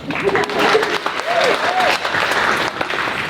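A student startup event audience claps briefly, a moderate spread of hand claps with overlapping voices and some whistling or cheering mixed in.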